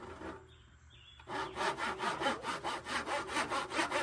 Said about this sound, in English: So we're gonna go ahead and go out with the old-fashioned handsaw